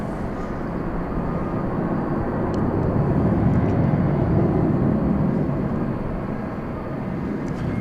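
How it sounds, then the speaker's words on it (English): An American Airlines Airbus A321 from Phoenix at Dallas Fort Worth Airport gives a continuous broadband jet rumble that swells gently toward the middle and eases again, loud and steady, with no voices over it. "That was Flight 3009 from Phoenix, an Airbus A321"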